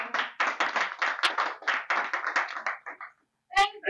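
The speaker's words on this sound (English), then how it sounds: "I want to clap for men." Hands clap steadily and close at a drug-abuse play event, a rapid even run of claps for about three seconds, then a brief silence before a voice begins.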